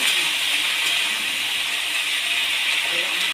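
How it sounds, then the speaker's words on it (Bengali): Eggplant pieces sizzle in hot mustard oil as they are stirred, a steady bright frying hiss holding evenly throughout with faint scraping underneath. "তেলটা গরম হয়ে গেছে এবার আমি বেগুনগুলো দিয়ে দেবো দিয়ে এবার একটু নেড়ে নেব"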